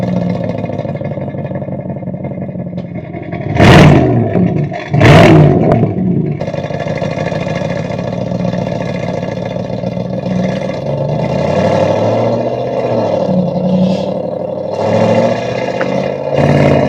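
Aston Martin DBX707 SUV engine revving, a steady deep idle broken by two sharp loud blips around the middle, then a rising and falling drone as the engine is worked, close and clear with no talk.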